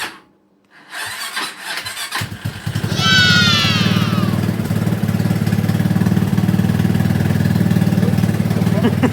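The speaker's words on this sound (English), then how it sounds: "now it's time to fuel up the Buggy and see if we can get it running" A buggy engine cranks and then catches after a jump start from a lawnmower, settling into a loud, rough, steady idle with a rhythmic chug, with a brief squeal as it fires.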